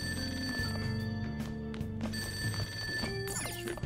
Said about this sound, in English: That ringing sound isn't coming from my cell phone.